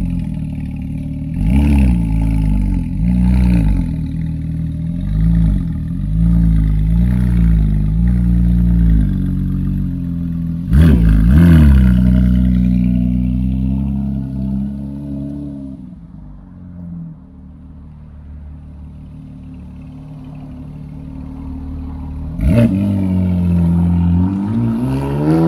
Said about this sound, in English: GMG exhaust.